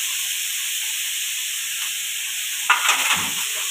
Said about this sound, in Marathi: त्यात आपल्याला छान परतून घ्यायचे.